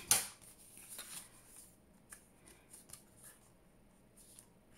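Faint, scattered snips of scissors cutting Tim Holtz paper by hand in a quiet room, a sharp cut at the start followed by a few lighter, irregular clips.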